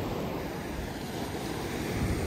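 Wind rushes and buffets the microphone outdoors at a nature park in a continuous roar, with a faint wash like distant surf beneath it.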